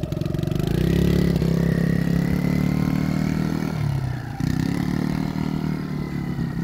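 A Yamaha YFZ50 youth ATV engine runs loud and close, rising with a little gas then easing off to a lower idle-like drone, with some mechanical clatter.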